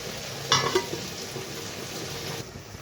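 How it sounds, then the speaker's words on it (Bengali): Jaggery cooks down in a pan for a chalta (elephant apple) pickle, making a steady low bubbling sizzle close by, with a brief scrape or stir near the start. "গুড়টা জাল হচ্ছে, দেখো।"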